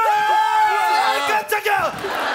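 A loud, close chorus of voices from a comedy stage audience whoops and shouts in long, rising cheers, with a brief dip partway through before the yelling resumes.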